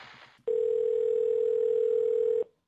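A steady telephone line tone on a long-distance call, a single loud pure hum lasting about two seconds before cutting off, preceded by a brief faint muffled sound.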